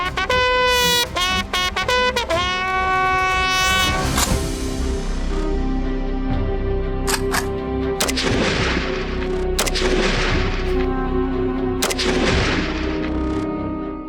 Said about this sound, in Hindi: फायरिंग उसी वेपन से की जाती है जो पूरे 60 घंटे हमने कैरी किया होता है।